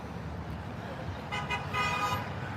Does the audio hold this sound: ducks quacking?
no